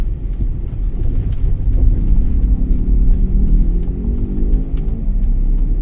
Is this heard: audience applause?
no